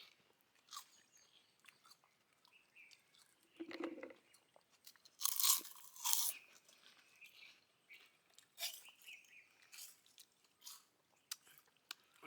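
Someone bites and chews a sun-dried chilli side dish served with kelvaragu koozh in a village kitchen, producing faint, scattered, close crunches and chewing sounds with soft gaps between them.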